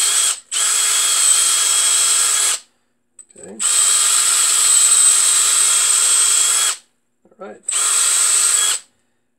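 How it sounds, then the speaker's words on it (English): A power drill bores into the plastic casing of a Makita battery pack in three loud, steady high-pitched runs separated by short pauses, with someone speaking briefly in the gaps. "let's drill a little bit into these"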